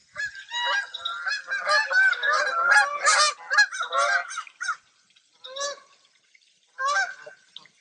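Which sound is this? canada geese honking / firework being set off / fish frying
canada geese honking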